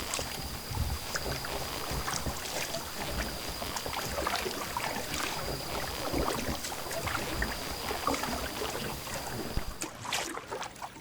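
A small fishing boat slips quietly to a new fishing spot at night, with a soft steady wash of water and motor noise throughout and a faint constant high whine. Nobody talks.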